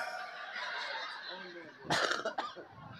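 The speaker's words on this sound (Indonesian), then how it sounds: "Tah eta batuk ngarana" A short, harsh cough bursts out partway through a sermon in a mosque, with a rougher follow-up, over a steady background hum.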